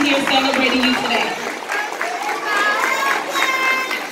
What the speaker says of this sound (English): Give your parents a round of applause.